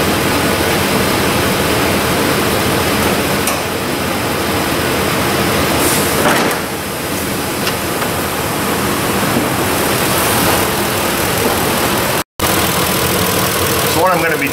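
A Ford F-Series pickup's 5.4-liter 3-valve engine idles as it warms up, a steady broadband rumble that holds level throughout with one brief dropout near the end.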